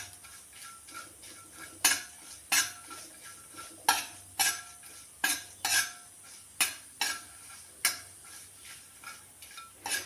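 Dried prawns are dry-roasted in a pan and stirred with a utensil, giving regular scraping, clinking strokes about every half second over a faint sizzle, close and clear.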